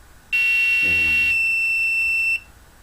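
A loud, steady high-pitched buzzer tone from an Arduino circuit sounds continuously for about two seconds, then cuts off abruptly.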